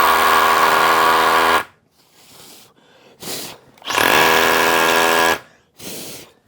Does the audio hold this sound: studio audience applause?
no